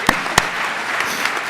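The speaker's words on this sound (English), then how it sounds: "May I have a huge round of applause?" Applause from an audience at a credit union executive award event: a steady wash of clapping, with a few sharper individual claps standing out near the front.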